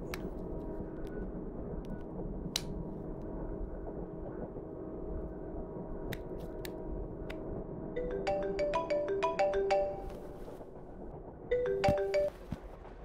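A mobile phone ringtone plays a bright, quick melodic tune in two short bursts. It sounds over a steady low rumbling background with occasional sharp clicks, and no one speaks.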